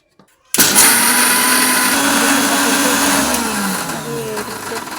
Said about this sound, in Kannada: ಶೇಂಗಾ ಅಷ್ಟು ತೊಗೊಂಡು ನಾನು ಮಿಕ್ಸಿ ಜಾರಿಗೆ ಹಾಕ್ಕೊಂಡು ರುಬ್ಕೋತೀನಿ